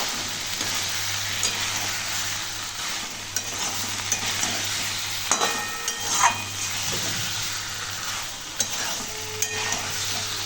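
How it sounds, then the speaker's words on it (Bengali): Potato curry (aloo dum) is sautéed in a pan, with a steady sizzle and hiss under intermittent scraping and stirring strokes, close and continuous. "এবারে আলুর দমটা ভালো করে কষে নিলাম।"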